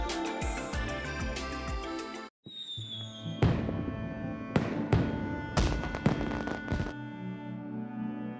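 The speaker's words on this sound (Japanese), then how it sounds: "夜には花火まで上げるなんてな" Fireworks in a video game bursting in a series of sharp bangs and crackles, several loud pops spaced irregularly over an ambient musical background.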